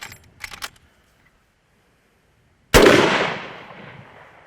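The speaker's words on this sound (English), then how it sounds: "I'm actually going to take a second shot." A single loud gunshot from a rifle fitted with a Witt Machine SME muzzle device, a sharp close blast with a long fading ring, preceded by faint metallic clicks of handling.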